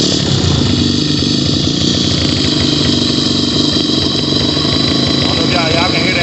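A 250cc dirt bike engine idles steadily with a fan boosting its air intake, giving a continuous, loud, dense drone throughout, with rushing airflow mixed in and a voice talking over it.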